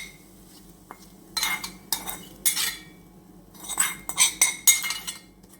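A spoon scrapes and clinks against a metal pot as a fried tempering of mustard seeds, shallots, chillies and curry leaves is stirred into Thiruvathira puzhukku, in several short bursts of close clatter with quiet gaps.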